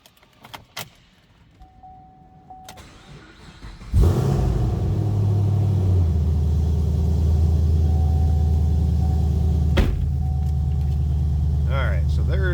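A 2010 Chevrolet Camaro 2SS with a Magnuson-supercharged 6.2-liter V8 starts after some clicks and key sounds, then settles into a loud, steady, deep idle rumble.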